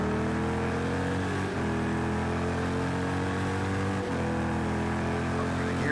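Race car engine at COTA accelerating up through the gears, a loud, steady close-up drone whose pitch climbs and then drops sharply at two upshifts.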